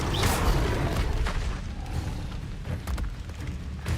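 A Levioso spell effect from the Hogwarts Legacy video game plays as a loud, dense whooshing burst with rumbling low booms and creaky mechanical textures, steady throughout.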